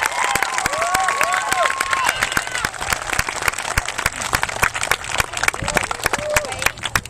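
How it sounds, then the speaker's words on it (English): Outdoor crowd at a construction groundbreaking applauds the board with dense, steady clapping and a little cheering, while voices and a few whistles carry through the applause. "Let's give the board a nice round of applause."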